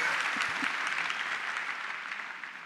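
A church congregation applauding together, a dense, steady wash of clapping that stays fairly even and fades slightly toward the end.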